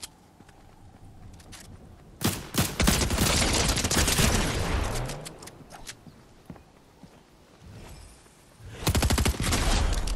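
Video game gunfire during a multiplayer shootout aimed through a building window, arriving in loud clustered bursts separated by quieter stretches with faint footsteps.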